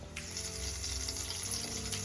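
Cumin seeds fry in a spoonful of hot oil for a tempering in a kitchen, giving a steady, fairly loud sizzle and crackle that holds throughout with no talk.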